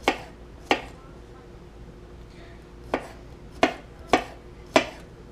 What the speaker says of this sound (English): it's only a couple garlic cloves, so I'm just going to cut it by hand.